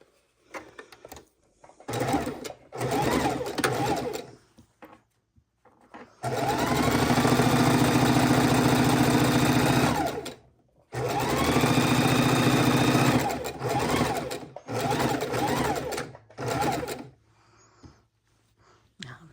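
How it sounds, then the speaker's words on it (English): A sewing machine stitches scrappy log cabin quilt blocks in bursts, with short stops and starts and then two long steady runs of rapid whirring. "back to the ironing board, back to the sewing machine"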